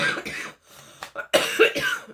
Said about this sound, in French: Faites-en pas si je tousse